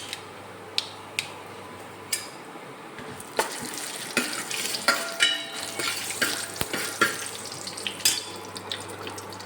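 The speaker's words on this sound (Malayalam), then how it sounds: "കടുക് പൊട്ടി കഴിഞ്ഞാൽ കുറച്ച് അണ്ടിപ്പരിപ്പ് ഇടുക." Cashews hit hot oil with popping mustard seeds in a pan on an induction cooktop for aval uppumaavu, giving a crackling sizzle with sharp pops and stirring scrapes that grows busier partway through.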